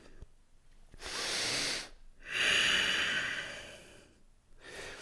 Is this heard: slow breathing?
yes